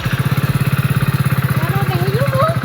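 A motorcycle engine idling close by with a fast, even putter of firing pulses, while a voice rises faintly over it near the end.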